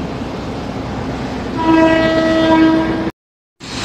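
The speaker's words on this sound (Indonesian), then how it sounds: "rangkaian kereta dinasnya berangkat dari Balai Yasa Manggarai menuju ke arah sini nih" A train arrives at Manggarai station, its horn sounding a loud, sustained tonal blast over the rumble of the rails. The sound cuts off abruptly and then resumes.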